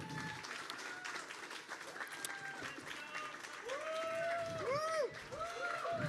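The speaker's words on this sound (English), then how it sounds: "Please give a massive round of applause to Chromamind." Audience applause at the ETHGlobal Cannes 2025 closing ceremony, a broad steady clapping from the crowd, while amplified voices and a music sting ring out over it in the latter half.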